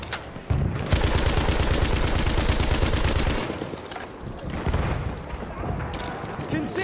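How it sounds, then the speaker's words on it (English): Rapid, loud bursts of Madsen machine gun fire ring out in a Ballroom Blitz video game match. A sustained close stream of shots lasts about three seconds, followed by scattered distant gunfire. "Machine gun!"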